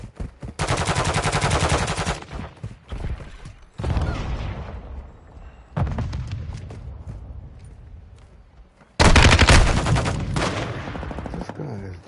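Gun firing in the shooter Modern Warfare 2: repeated loud bursts of rapid automatic fire with short pauses between them, each burst sharp and close.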